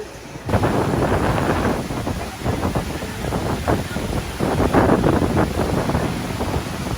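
Strong wind buffets the microphone as storm waves crash and surge continuously over the beach at Boracay, a loud, roaring seaside rush with no voices.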